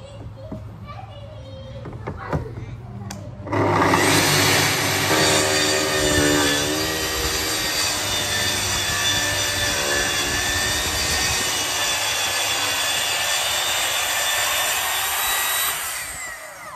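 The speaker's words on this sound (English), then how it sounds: "So to perform the cuts on the drawers, I'm gonna use what's called a track saw." A track saw cuts drawer panels for a DIY camper trailer, a loud, steady whining roar lasting about twelve seconds; brief voices and knocks come before it starts.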